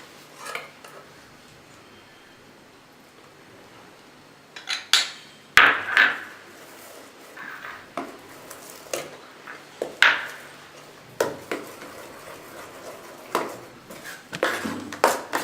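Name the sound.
stirring mango paste into dosa batter in a bowl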